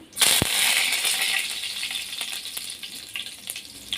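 Dried red chillies and curry leaves dropped into hot oil for a crab dish, an immediate loud hiss and crackle that steadily fades, with scattered pops and spatters, close and alone.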